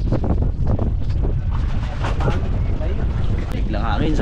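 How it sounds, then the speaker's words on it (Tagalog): A strong, sudden wind buffets the microphone near a coast with many boats, a loud, constant low roar, while people talk over it in Filipino throughout. "Biglang hangin"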